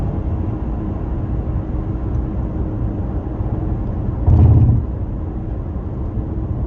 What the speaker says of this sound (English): Right now I'm in construction zone, that's why you hear rumble strips.